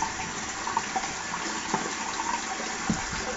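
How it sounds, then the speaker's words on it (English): Tap water runs in a steady, close splashing stream while a little is added to shaving cream lather, with small drips and splashes breaking through the continuous flow. "Add a little bit more water, huh?"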